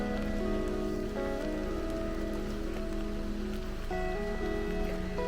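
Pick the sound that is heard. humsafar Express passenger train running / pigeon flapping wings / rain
rain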